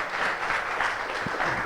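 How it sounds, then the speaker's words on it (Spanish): A church congregation bursts into loud, dense applause that stays close and continuous for the whole short moment. "Dale ese aplauso a papá Dios"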